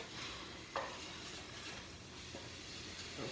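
A pan of ground beef sizzles quietly as it is deglazed, with a soft steady hiss, a few spoon scrapes and one brief clatter early on.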